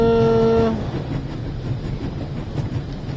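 A train racing at full speed in The Raven video game gives a short horn-like tone, then a steady, dense rumble that rolls on without a break.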